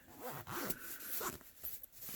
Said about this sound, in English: Zip it back up.